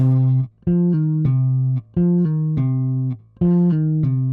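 Bass guitar plays a repeating three-note figure with smooth pull-off and hammer-on slurs, four phrases separated by brief gaps, clear and close with no talking.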